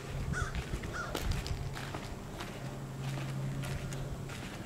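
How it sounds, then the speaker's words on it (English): Large birds perched near a full lake give a few harsh caws, fairly faint, over a constant outdoor rumble and wind noise. "Those are some really big birds to be perching like pigeons."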